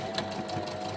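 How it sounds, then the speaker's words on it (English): A sewing machine runs steadily while stitching across cotton for a Tilda doll, a close, continuous motor whir with rapid needle ticks and no voices. "Now continue your stitch all the way across, and then back again and up."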